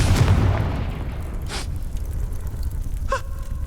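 A Confringo blasting spell in Hogwarts Legacy, a loud deep boom at the start fading into a rumbling tail, followed by a couple of brief gasping sounds.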